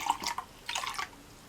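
Water dumped out of a glass jar while making a sensory glitter jar, two short splashing pours with drips, close and fairly quiet.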